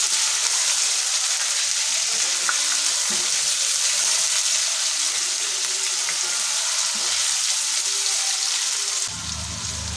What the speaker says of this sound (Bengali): পনিরগুলো দিয়ে একটু নাড়াচাড়া করে হালকা করে ভেজে নেবো